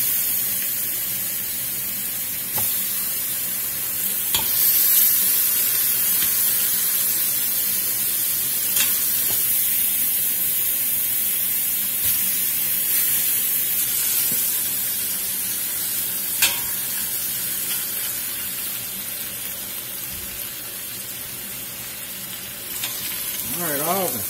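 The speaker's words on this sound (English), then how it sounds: "all the pork has been browned off" Batches of pork shoulder brown in an Instant Pot, a loud, steady sizzle and spattering hiss lasting throughout, with occasional sharp pops and clicks of the pieces being moved around.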